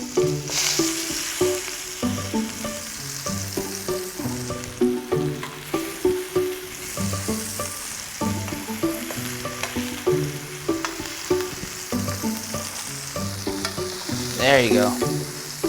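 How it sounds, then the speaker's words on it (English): Zucchini sizzles in hot oil in a pan as it roasts, a steady crackling hiss under music with occasional stirring clatter; a voice speaks briefly. "you want that little sizzle sound to occur"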